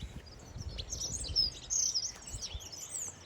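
Small birds chirp and tweet at a feeder in damp, cold, windy weather, high bright calls in quick bursts over low rumbling wind noise, fairly close.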